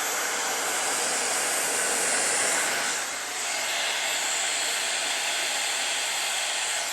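A Shark Glossi hot air styler blows in a steady, loud, close whoosh of rushing air with a brief dip partway through, running alone without speech.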